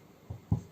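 Chalk or marker strokes on a classroom board during an English lesson make two brief, soft scratchy taps in quick succession, the second slightly louder, alone without talk.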